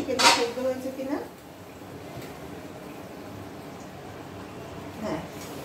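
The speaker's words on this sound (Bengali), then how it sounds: "এবার চিকেনের ঢাকাটা তুলে দেখি চিকেনটা সেদ্ধ হয়েছে কিনা" A metal lid is lifted off a pot of chicken curry, giving one sharp clank at the start, then a low, steady simmering hiss with another faint knock near the end.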